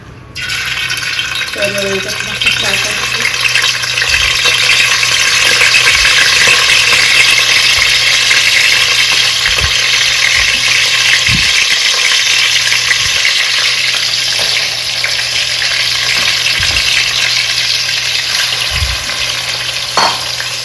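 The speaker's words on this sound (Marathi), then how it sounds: "चला आता प्रॉन पूर्ण फ्राय करून घेऊ गॅसवर" Prawns frying in hot oil that already cooked onions, in a pot over a gas flame outdoors in a garden, a steady loud sizzle running throughout with occasional stirring clinks.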